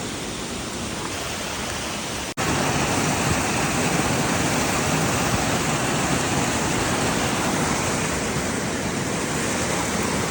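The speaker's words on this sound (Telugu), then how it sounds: "సో ఇక్కడ వాటర్ ఫాల్స్ చూసారా, వాటర్ ఫాల్ పైన వర్షం" Heavy rain pours onto a waterfall during an outdoor walk in Gokarna, making a loud, steady, dense roar of rushing water that drops out for a moment early on, then continues unbroken.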